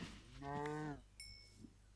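A Minecraft cow lets out one clear, harmonic-rich in-game moo, followed by a short bright chime and a faint thump, quiet and with no talking.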